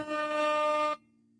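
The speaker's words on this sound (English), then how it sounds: "Got the air horn." Air horn sound effect played from a soundboard: a single loud, sustained buzzy blast lasting about a second, then cutting off sharply, with no talking.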